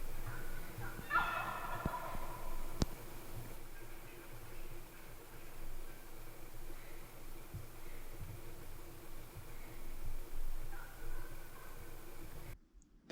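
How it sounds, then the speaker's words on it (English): Wild tom turkeys gobble in the distance, one rattling call early and another fainter reply later, over a quiet outdoor background. "tom turkeys gobbling back and forth to each other this time of year"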